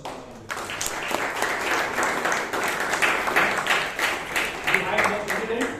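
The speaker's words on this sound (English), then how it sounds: "One more round of applause for Toastmasters." An audience at a Toastmasters meeting in Bangalore gives a steady, full round of clapping that carries on for several seconds in an indoor hall.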